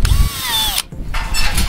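A close, loud power drill whirs while boring into wood during a window box build, its pitch sliding downward before it briefly stops and then starts again.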